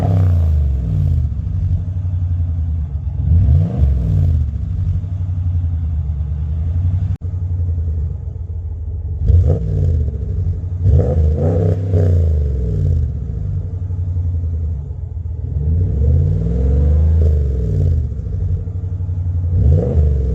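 A RAM 1500 pickup with a Solo direct fit muffler rumbles at close range with a deep exhaust note, swelling through several revs between stretches of steady idle.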